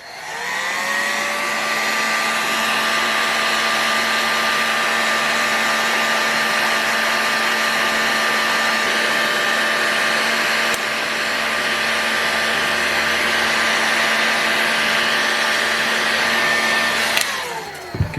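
A hot-air blower heating a model engine bearing case whirs loud and steady from start to finish with a constant high whine, then cuts off at the end.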